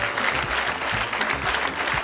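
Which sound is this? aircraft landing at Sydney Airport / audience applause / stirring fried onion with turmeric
audience applause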